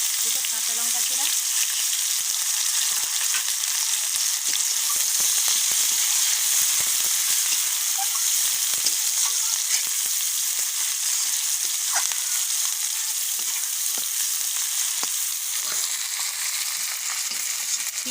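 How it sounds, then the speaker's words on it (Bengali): Onions frying in oil with cumin seeds and slit green chillies for a Bengali mustard koi fish curry, a steady close sizzle hissing throughout with light crackles and occasional stirring scrapes. "পেঁয়াজটাকে ভালোভাবে ভেজে নেবো"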